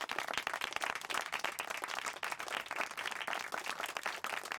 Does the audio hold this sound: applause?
yes